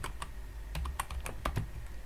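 Quick keystrokes on a computer keyboard as an SQL select command is typed into a database editor, irregular clicks close and moderately quiet against a faint hum.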